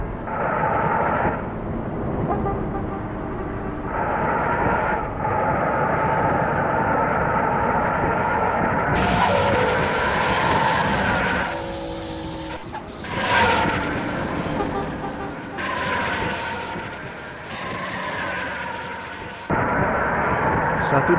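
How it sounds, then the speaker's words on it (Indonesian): A company truck fitted with a newly installed land jet exhaust roars at speed on a light-traffic road, a loud continuous engine and exhaust drone with shifting pitch and brief gear-change dips, heard from inside the cab. "suara knalpot jet darat yang baru dipasangkan di truk kantor yang saya bawa saat ini, semakin nyaring terdengar"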